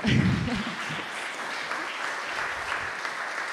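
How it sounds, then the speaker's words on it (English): A pitch-challenge audience applauding a jury member, a dense, steady wash of clapping from a sizeable crowd that holds evenly throughout, with a brief murmur at the start. "You can give a little applause for Jérémy."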